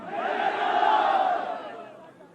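A crowd at a PMLN political rally in Gilgit-Baltistan chanting a slogan together. The chant swells loud, holds, then fades.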